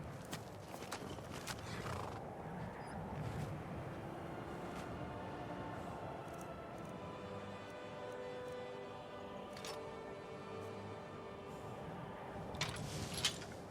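A horse in the Skyrim video game, with hooves clip-clopping steadily and a whinny near the start, heard fairly close against a soft game background with a few sharp clanks.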